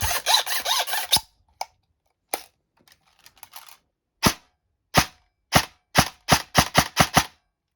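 A Specna Arms M4 airsoft rifle fed from a Lonex flash magazine fires sharp, close snapping shots: a rapid burst, then scattered single shots with faint handling noise between them, and finally a quick string of regular shots.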